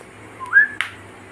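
A person whistles a single short, clear note that slides upward, close and fairly loud, followed by a brief click and then quiet.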